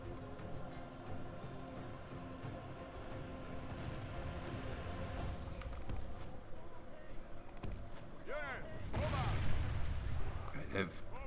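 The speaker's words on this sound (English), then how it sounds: "Start shooting." Gunfire from a medieval-style battle in the Stainless Steel 6.4 mod, with ranged units shooting at militia; dense, continuous volleys and booms rumble steadily, swelling louder near the end, with voices talking over the din.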